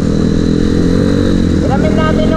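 A motorcycle engine runs steadily and loudly throughout while riding on a long endurance trip, with a constant low drone and rising tonal whine near the end, with voices faintly under it.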